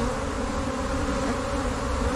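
Honeybees buzz as a dense, steady swarm hum while being rescued from a fallen tree trunk and moved into a hive box, close and continuous with no voices.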